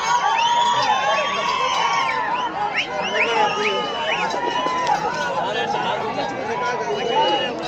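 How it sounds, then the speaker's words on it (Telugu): A crowd at a bullock race in Rudravaram keeps up loud, continuous whistling and shouting, with excited voices mixed through the noise from start to finish. "చప్పట్లు విజిల్లు చేతులు రావాలి"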